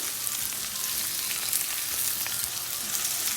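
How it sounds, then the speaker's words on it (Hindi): Onions frying in oil in a cast iron kadai give a steady, dense sizzle that holds even and fairly loud throughout, with faint stirring scrapes beneath and no talking. "और ये अनियंस को हम तब तक फ्राई करेंगे जब तक कि अनियन ब्राउन नहीं हो जाते"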